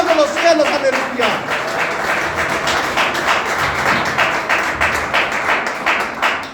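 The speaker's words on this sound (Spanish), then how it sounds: "Si lo vas a aplaudir, apláudelo como corresponde al Dios de los cielos." A church congregation breaks into applause during a Spanish-language sermon, many hands clapping in a full, even roar that holds steady, with a voice speaking briefly over the start.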